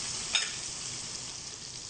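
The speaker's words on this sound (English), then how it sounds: "Now I'm frying it." Steady, close sizzling and crackling of spiced ripe plantain frying in hot oil, a continuous hiss with a brief pop near the start.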